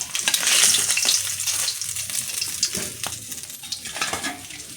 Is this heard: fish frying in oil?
yes